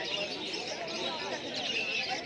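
Pigeons at a bustling pigeon market, including fantails and other fancy breeds. Busy chirps and coos mix with crowd chatter and voices in a continuous, close, lively wash.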